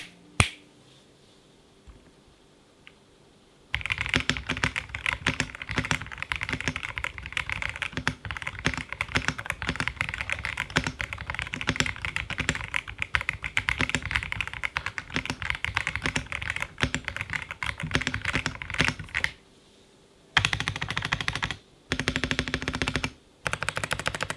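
Rapid, clacky typing on a Vortex GT-65 mechanical keyboard, stock out of the box, close and continuous, with a brief pause near the end before the keystrokes resume.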